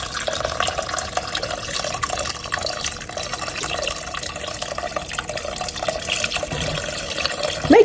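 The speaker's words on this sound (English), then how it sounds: "Now I'm going to go in with my chicken broth and water." Chicken broth and water pour steadily into a pot, a continuous splashing wash of liquid that stays even throughout, rising slightly at the very end.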